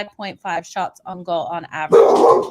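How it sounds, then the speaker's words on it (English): A dog barks loudly and close by at the end, after someone talks over a betting preview of NHL hockey odds. "maybe the dogs are barking today, you guys. Apologies for my dog."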